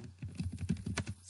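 Quick, steady keystrokes on a computer keyboard come from someone writing Java code, close and fairly soft, with no talking over them.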